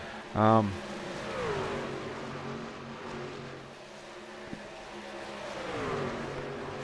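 ANZCAR racing trucks on track: a sudden loud engine blare is followed by rising and falling engine drones as the trucks pass, blending into a continuous background rumble.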